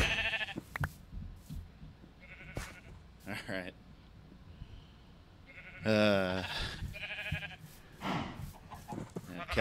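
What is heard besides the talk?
sheep bleating in the video game Minecraft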